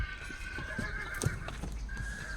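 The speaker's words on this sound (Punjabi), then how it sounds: "ਮਾਰਵਾੜੀ ਨਸਲ ਦਾ ਜੀ ਇਹ ਪੁਸ਼ਕਰ ਮੇਲਾ ਜਿਹੜਾ ਸਭ ਤੋਂ ਵੱਡਾ ਮੇਲਾ ਹੁੰਦਾ ਘੋੜਿਆਂ ਦਾ ਉਹਦੇ 'ਚ ਪਹਿਲੇ ਨੰਬਰ ਤੇ ਆਇਆ ਇਹ ਘੋੜਾ" A prize-winning Marwari horse at the Pushkar horse fair gives a loud, close whinny that rises and trembles, then breaks off and resumes briefly, with fair crowd noise and a few dull thumps underneath.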